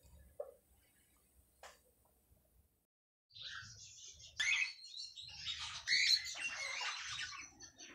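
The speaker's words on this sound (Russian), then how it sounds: "отправляемся в вольер, где находятся попугаи." Budgerigars chirp in an aviary, scattered faint tweets at first, then a denser burst of chattering calls after a quiet pause, moderately close.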